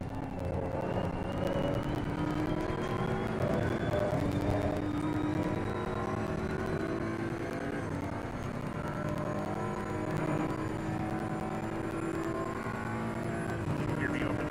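Race car engine in the driving game Assetto Corsa Competizione, a sustained droning whine with gradually shifting pitch that runs steadily throughout at moderate level, with someone talking over it.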